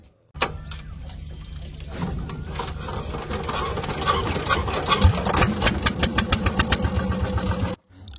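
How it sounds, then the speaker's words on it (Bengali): A boat engine on the Jamuna river is started by the boatman and settles into a steady, rising mechanical drone, with rapid pulsing knocks growing louder toward the end before cutting off abruptly. "আমাদের মাঝি ভাই নৌকার ইঞ্জিনটা চালু করে দিল।"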